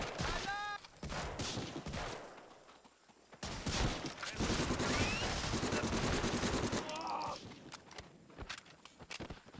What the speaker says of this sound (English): I just shot you in the kneecap.